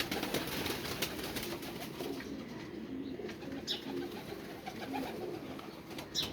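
Pigeons coo softly and repeatedly against a busy background hum, with low murmuring calls overlapping throughout.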